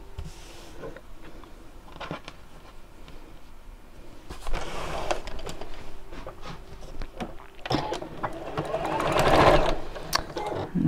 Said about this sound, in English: let's sew that one right sides together with that